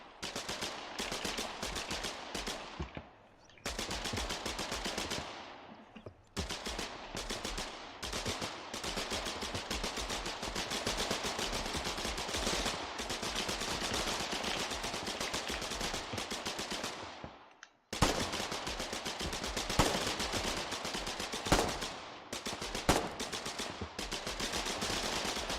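Gunfire in the online war game Foxhole, dense rapid bursts of machine-gun and rifle shots with brief pauses between volleys, loud and sustained.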